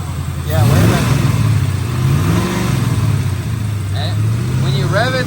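A Ford Mustang Foxbody engine revving up and settling back, a loud close mid-pitched growl rising and falling across several blips, with people talking over it.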